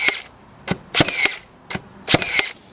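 A Makita 18V cordless framing nailer drives nails, six sharp snapping shots in irregular clusters, close and fairly crisp, each followed by a brief mechanical ring, with no talk.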